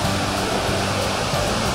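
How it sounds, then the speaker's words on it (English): The main waterfall at Thommenkuthu falls, a dense, constant roar of falling water filling the whole clip, loud and close with no break. "So behind me is the main waterfall at the entry point."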